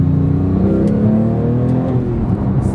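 A Porsche GT3 Touring with a 500-horsepower flat-six engine and a six-speed manual gearbox accelerates, its loud, close engine tone rising steadily in pitch from inside the car.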